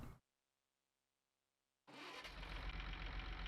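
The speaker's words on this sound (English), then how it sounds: "I'm not sure why the tractor died. See if it'll start back up." A tractor engine in Farming Simulator 19 cranks and catches after a stretch of silence, then runs loud and steady with a rough, rumbling idle.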